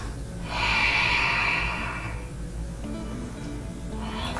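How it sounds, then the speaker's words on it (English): Slow yogic Ujjayi breath during a gentle morning yoga flow: one long, steady, hissing exhale swells and fades over about two seconds, close and fairly soft, followed by quieter room tone and the start of another breath. "Notice your Ujjayi breathing."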